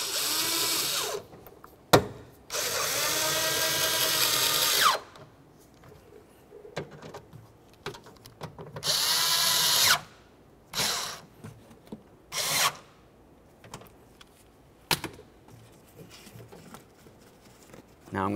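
A power driver whirs in several short bursts, tightening door lock mounting screws on a 2001-2005 Ford Explorer Sport Trac door, close by, with pitch dropping as each screw snugs up and brief clicks between runs.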